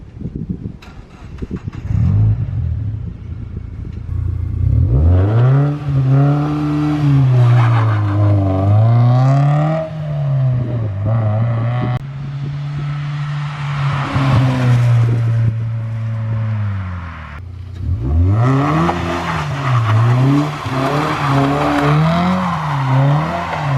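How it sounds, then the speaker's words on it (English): A Mazda MX-5 sports car exhaust revs repeatedly, rising and falling in loud, throaty pulls with crackles between bursts, close by and with no talking. "couple of clips on how the exhaust sounds"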